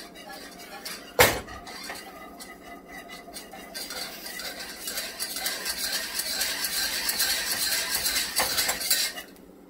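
A whisk works a thickening mixture in a metal pan, its scraping, rhythmic clatter building and growing more vigorous after a sharp knock at the start; a voice speaks faintly in the background.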